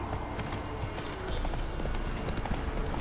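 Roach the horse gallops in The Witcher 3, rapid rhythmic clip-clop hoofbeats close and steady over ambient game sound.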